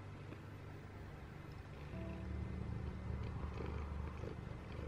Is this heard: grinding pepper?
no